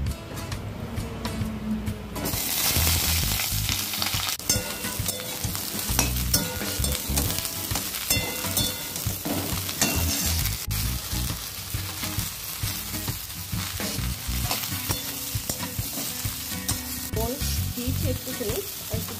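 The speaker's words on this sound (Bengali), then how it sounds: "দিয়ে ঝিঙেগুলো আবার দিয়ে দেবো" Ridge gourd pieces sizzle loudly in a hot wok over a nigella seed tempering, with a steady, dense hiss of frying and occasional stirring scrapes throughout.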